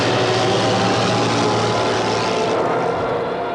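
Piston-engined WWII propeller aircraft in Battle of Britain dogfights over southern England, a broad steady engine drone held at constant loudness throughout, with no voices.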